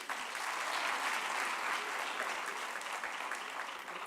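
Continuous, even clapping fills the hall at the National Arts Festival 2022 opening ceremony, a dense round of audience applause lasting about four seconds with no talking.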